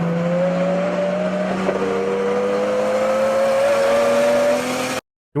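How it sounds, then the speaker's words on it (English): A car accelerating hard, its engine holding a steady rising whine with harmonics for several seconds, loud and close, then cutting off abruptly. "how fucking fast that car accelerates"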